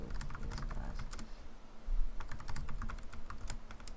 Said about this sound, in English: if you can hear my keyboard